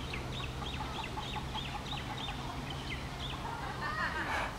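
A free-roaming rooster near Hanauma Bay clucks in a rapid string of short, moderately distant calls over steady outdoor background noise.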